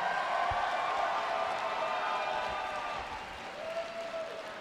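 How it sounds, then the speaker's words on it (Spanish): A crowd at a drag show final claps in a soft, dense patter of applause, fading slightly toward the end. "Un aplauso para nuestra querida Alexis 3XL."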